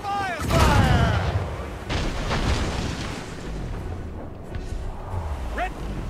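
Ship cannons fire a broadside in Assassin's Creed Rogue, a run of heavy booms and cracks rolling across the sea, with shouted voices giving orders over the battle noise.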